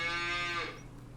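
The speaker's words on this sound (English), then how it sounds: "we have a whole bunch of new cows." A single long, loud cow moo at a ranch headquarters with hay, starting strong and tapering off after about half a second into quieter ambient noise.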